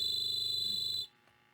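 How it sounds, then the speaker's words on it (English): Ion Science Tiger handheld gas detector sounds its pump stall alarm, a loud steady high-pitched electronic tone with rapid pulsing, cut off abruptly after about a second as the alarm is cancelled. "Hit escape to cancel the alarm."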